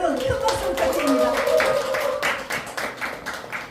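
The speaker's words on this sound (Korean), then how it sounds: "여러분 큰 박수 부탁드립니다" Clapping from a lecture audience at an outdoor special talk for a lyric-writing academy, a fairly dense patter of hands mixed with voices talking and calling out over it throughout.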